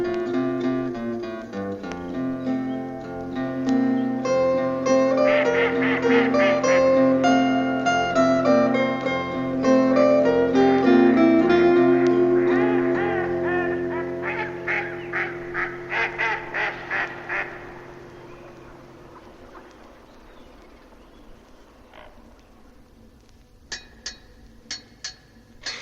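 Cartoon-style ducks quacking on a pond in Trumpton Park, a run of short quacks over a sustained musical backing, with a later burst of rapid quacks and a few faint ones near the end.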